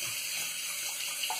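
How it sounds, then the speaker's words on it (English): Bathroom tap running steadily into a sink, filling water for a shaving lather with a badger brush; a continuous close hiss of flowing water with no talking. "But I said I'm gonna fill up the water and continue."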